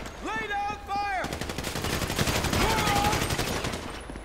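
Rapid gunfire in GTA 5 during a heist shootout, with dense bursts of automatic shots crackling continuously after shouted voices at the start.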